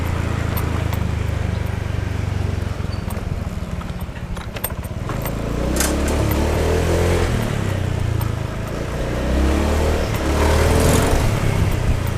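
A Honda Beat scooter engine runs roughly and unevenly, a continuous noisy rumble with irregular knocking pulses and rising surges, heard up close for the whole stretch.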